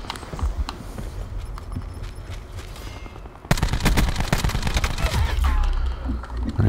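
Video game gunfire from an online shooter, with scattered shots at first, then a sudden jump into dense, loud bursts of rapid fire and clattering effects that continue to the end.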